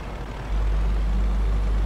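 A Hino truck in Euro Truck Simulator 2 strains up a steep, narrow hill while loaded with lightweight bricks, its low diesel engine note swelling into a loud, steady drone after a brief quieter start.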